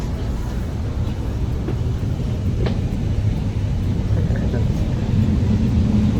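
Inside a double-decker train travelling from Napoli to Bari: a constant low rumble of wheels and carriage runs steadily throughout, with a faint squeak partway through and no speech heard.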